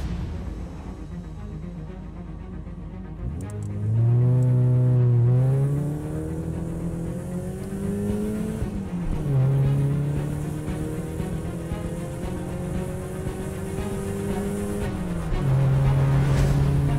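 A car engine drives and revs in the survival game Miscreated, its pitch rising and falling through gear shifts over a steady rumble, loud and close throughout.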